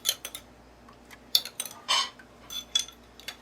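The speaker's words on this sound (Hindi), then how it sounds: "इसको अच्छी तरह से मिक्स करेंगे।" Spoon clinking and scraping against a bowl while fish marinade for spicy fried fish is mixed, a series of short bright metallic taps and scrapes in quick irregular bursts, close and alone.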